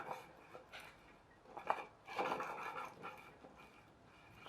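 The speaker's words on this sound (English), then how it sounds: "the wheels are too close together and they'll rub against each other" Cardboard wheels on a plastic bottle toy car rubbing against each other, faint scraping and scuffing bursts at irregular intervals, close by.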